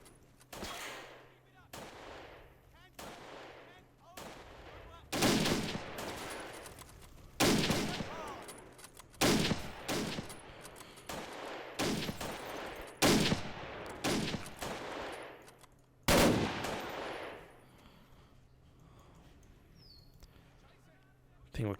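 Repeated bursts of gunfire from a Totaler Krieg 1939-45 mod battle with a British parachute platoon, loud volleys and rattling fusillades recurring every couple of seconds alongside fainter distant shots, with voices calling out between them.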